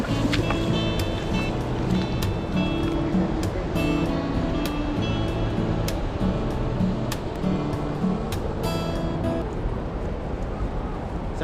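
Steady broadband rush of river water runs continuously and fairly loud throughout, with a faint low hum and scattered clicks underneath.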